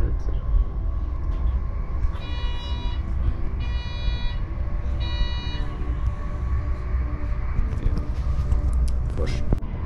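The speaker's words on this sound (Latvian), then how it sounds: "Baigā ātri vilcienā mēs braucam" Inside a fast train traveling around 200 km/h, a constant loud rumble and rolling noise with a few brief tonal beeps or signals repeating early on.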